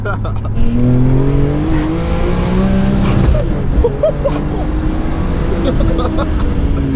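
A boosted BMW M3 E46 accelerating hard on a slippery road, its engine loud and droning from inside the car as it revs up through the gears, with voices and laughter over it.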